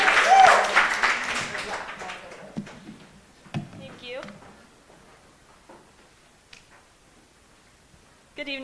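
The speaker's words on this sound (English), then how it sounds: "big round of applause" Audience applause at a college pitch competition as a presenter comes up, a loud burst of clapping for the first couple of seconds that tapers away, leaving faint room sounds and a voice starting at the end.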